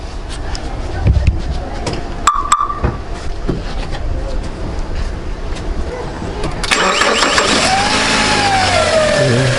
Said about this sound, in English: Now we're just going to start it up to see if the misfire goes away